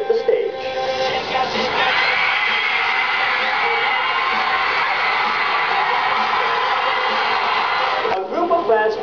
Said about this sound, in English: As they stepped inside Araneta, overwhelming screams were heard prompting their excitement to see their idols hit the stage.